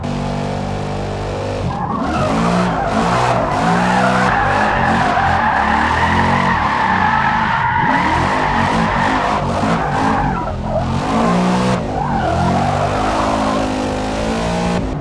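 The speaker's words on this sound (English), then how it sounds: "Right before the entry to the corner, just tap the handbrake and the rear end will pop out and then floor it." Car drifting in the Forza Motorsport video game, handbrake-initiated: a loud revving engine with long continuous tire squeal, rising and falling through the slide, with brief dips as the car changes direction.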